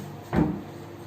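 A wardrobe drawer in a kids' bedroom utility area slides and bumps shut once, a short close thud in a quiet room.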